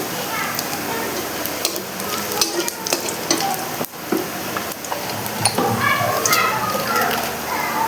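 Whole cumin seeds fry and crackle in hot oil while being stirred, a dense continuous sizzle with scattered pops and scraping strokes, close and fairly loud throughout.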